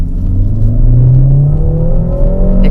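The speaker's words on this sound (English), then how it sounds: "The exhaust note for an inline-4 engine is actually not bad" A 2020 Peugeot 5008 Allure's 160-plus horsepower inline-4 accelerates in sport mode, a loud, steady engine drone rising in pitch as speed builds, heard from inside the cabin.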